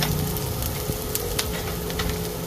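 Garlic sizzles steadily in a hot frying pan, a dense, even crackle with small pops scattered throughout, close and moderately loud with no voices.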